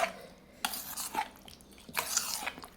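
A spoon clatters and scrapes against a pan while a tomato and green chilli mixture is stirred in a hot tempering for a village-style roti chutney, in a few sharp bursts separated by quieter pauses.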